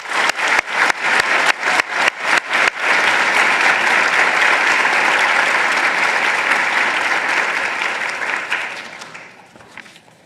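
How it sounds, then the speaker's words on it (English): An audience at a morning session on African American participation in Alzheimer's disease research begins with several sharp separate claps, then swells into dense sustained applause that fades out after about nine seconds. "Let's give them a round of applause."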